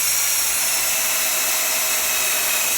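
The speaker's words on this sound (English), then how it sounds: "Now I'm going to run my other drill bit through just to give those big screws" A power drill boring pilot holes for large screws in wood during a cornhole board build gives a loud, continuous high whine that holds steady throughout, close up and without talk.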